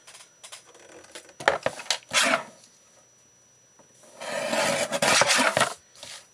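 Paper scraps are trimmed for a handmade card in short rasping cutting strokes, grouped into two busy bursts separated by a quiet stretch and heard up close.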